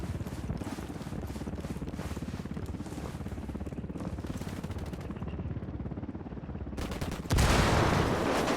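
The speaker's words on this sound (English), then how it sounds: "We got a chopper coming in." A helicopter approaching amid gunfire in the video game Ghost Recon Wildlands, with rapid rhythmic rotor-like pulsing and bursts of shots under a dense low rumble, ending in a loud, sudden wash of noise.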